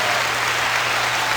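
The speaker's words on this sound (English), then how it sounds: "Y'all clap it up for team building." Steady applause from a crowd cheering for team building, a thick, even wash of clapping with no pauses, fairly loud, and no talk on top.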